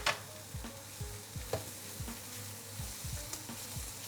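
Mushrooms, onions and freshly added peppers sizzle in a pan with a steady crackle, punctuated by regular scraping stirs, close and moderately quiet without any talk.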